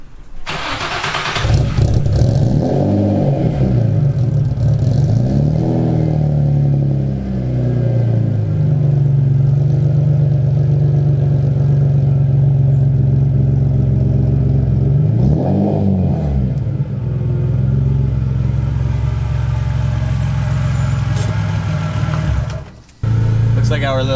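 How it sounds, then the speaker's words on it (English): A car engine cranks and catches on a warm start, then settles into a loud, steady idle with a couple of brief revs, while a person talks over it. "Listen to that warm startup real quick."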